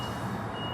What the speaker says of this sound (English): More beeping. More noises.